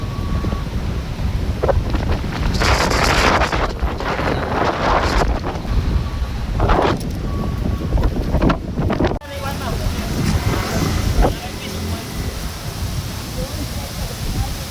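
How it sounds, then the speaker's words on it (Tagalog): Strong gusts buffet the microphone in heavy roaring bursts on a Siquijor beach, with surf and open-air rumble underneath and a voice speaking intermittently over the wind. "so hangin gyapon kayo kusog gyapon kayong hangin"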